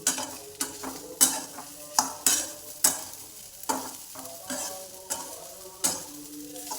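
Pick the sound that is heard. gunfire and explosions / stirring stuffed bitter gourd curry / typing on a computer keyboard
stirring stuffed bitter gourd curry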